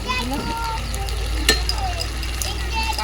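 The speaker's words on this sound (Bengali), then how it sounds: "কড়াইতে প্রথমে সর্ষের তেল বেশি করে দিয়ে আলুগুলো ভেজে নিলাম, তারপরে পেঁয়াজ, গোটা গরম মশলা, টমেটো সব কিছু দিয়ে কিন্তু মশলা কষাচ্ছি" Potatoes, onion, whole garam masala and tomato sizzle in mustard oil in a wok over a wood fire outdoors, a steady close frying hiss with a sharp clink of stirring, while people talk over it.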